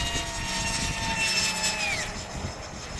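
Electric ducted fan motor on a small model plane whines at high speed with a steady whirring roar, its pitch sliding down near the end as it spools back.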